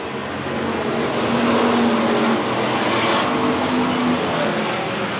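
Race cars roaring past side by side through turns 3 and 4 at Willamette Speedway, a steady loud drone of engines at a distance with a faint rising pass.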